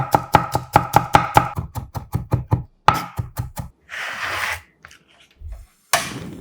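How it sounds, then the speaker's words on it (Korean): Two whole garlic cloves being coarsely minced with a knife on a cutting board, a fast run of close, crisp chops in even rhythm that slows, pauses briefly, then resumes with a few final strikes. "빠지면 섭섭한 통마늘 2개도 살짝 굵게 다져주세요."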